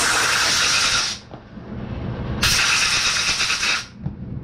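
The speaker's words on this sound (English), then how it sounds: "I go ahead and I grab my air compressor and I go ahead and I blow it out with the air compressor" An air compressor nozzle blasts air over RC car tires in two loud, hissing bursts, each lasting over a second, with a brief quieter gap of softer rumble between them.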